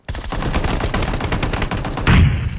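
Rapid automatic gunfire from a Groza rifle in the mobile battle-royale game PUBG Mobile, loud and dense bursts that run continuously, with a heavier close burst near the end; no voices.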